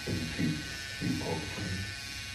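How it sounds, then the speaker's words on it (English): A Wahl Hero electric trimmer shaves a client's head. A close, fairly soft motor buzz swells and dips in short rhythmic passes as the blade glides over the scalp. "The trimmer just sliding right now."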